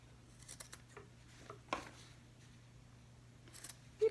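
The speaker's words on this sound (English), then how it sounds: "we want to trim just a little diagonal piece off of all the corners" Scissors snip diagonal corners off a paper slip pocket in a quiet room, giving a few short, soft cuts spread out, with one sharper snip near the end.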